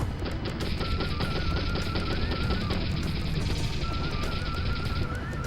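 Machine gun fire in the 1998 video game M.I.A. Missing in Action, a continuous rapid rattle of shots lasting several seconds over a droning engine whine, with no speech.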